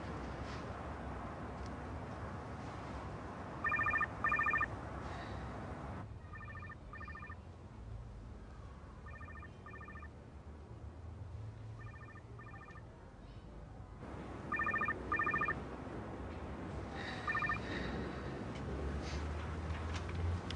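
A mobile phone rings with a repeating electronic ringtone pattern of short beeping bursts, faint and somewhat distant in an indoor room, over steady background noise.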